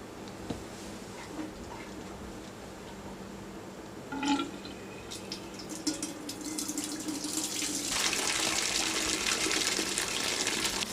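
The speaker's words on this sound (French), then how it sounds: "videz l'eau" Water drains out of a switched-off deep fryer being cleaned, a soft trickle at first, then a steady, fairly loud rushing pour that builds over the last few seconds.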